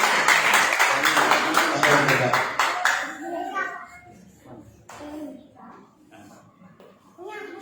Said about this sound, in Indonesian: Beri tepuk tangan yang dulu.